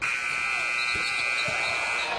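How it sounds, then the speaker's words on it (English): A loud, sustained electronic shot clock buzzer blares for about two seconds at a college basketball game, harsh and steady, with faint crowd noise and a couple of low thuds beneath it. "After the shot clock buzzer and no basket for TJ Cromer of the Buccaneers."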